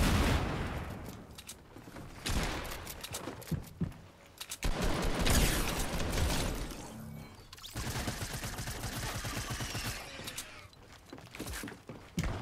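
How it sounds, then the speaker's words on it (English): Assault rifle gunfire in Fortnite Season 8, loud bursts of automatic fire with crackling impacts and shattering debris, broken by brief pauses over about twelve seconds. "Yo, the AR got a new sound."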